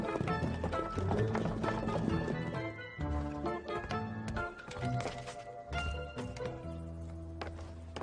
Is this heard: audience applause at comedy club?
no